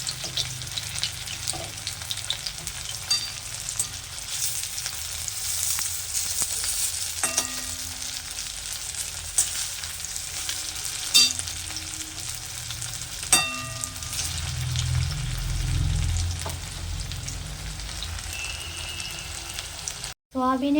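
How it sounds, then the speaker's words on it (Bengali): Spicy soybean fritters made with roasted peanut powder sizzle and crackle steadily in hot oil, with occasional clinks of a utensil turning them and a brief clatter at the end. "এইভাবে আমি সবগুলো ঝাল বড়া ভেজে নিচ্ছি।"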